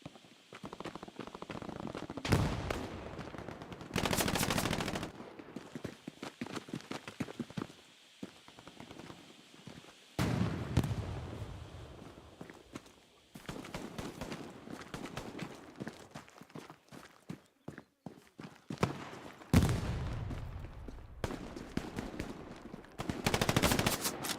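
Bursts of automatic machine-gun fire in the World War II online shooter Hell Let Loose, several loud rattling volleys spaced across the stretch with quieter distant battle noise and scattered shots in between; no one talks.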